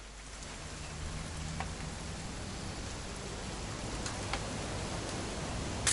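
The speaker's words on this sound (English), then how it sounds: "It's gonna rain the whole weekend, isn't it?" Rain in the video game What Remains of Edith Finch falls as a steady, even hiss with occasional faint drop ticks, a continuous moderate wash of sound throughout.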